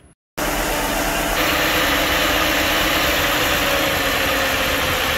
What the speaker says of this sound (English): the engine is running great